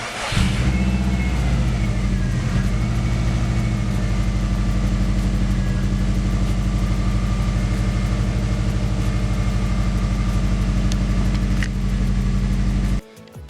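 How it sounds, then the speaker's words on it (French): A Subaru car engine, just after a brake bleed, runs at a steady close idle with a deep, even rumble for most of the clip, then cuts off abruptly near the end. "je vais démarrer la voiture, voir s'il y a un petit peu de mieux"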